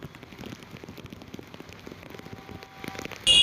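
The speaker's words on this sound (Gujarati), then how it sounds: "વહેલી સવારથી જૂનાગઢ શહેરમાં પણ ધોધમાર વરસાદ પડી રહ્યો છે" Heavy rain in Junagadh city, Gujarat, patters steadily on a surface, with scattered drops tapping throughout and a brief louder burst at the very end.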